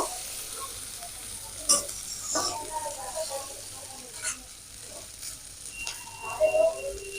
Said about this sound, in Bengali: পেঁয়াজ কুচি পেঁয়াজটা একটু ভেজে নেবো